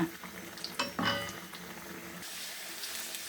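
Fritters (bora) and eggplant sizzle in hot oil in a home kitchen, a soft steady hiss broken by a few clinks of utensils, faint and close.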